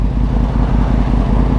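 A 2010 Yamaha R1 1000cc motorcycle engine with 52,000 km running, a loud close low throbbing rumble with steady pulsing firing rhythm, no talk over it.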